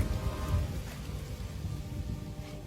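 Steady rain pours down at night, a dense wash of patter with a low rumble underneath, continuous and fairly loud, with no voices.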